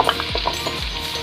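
Potatoes and carrots frying for chicken afritada, with a loud, steady sizzle and quick stirring scrapes in the pan, close and continuous through the brief moment.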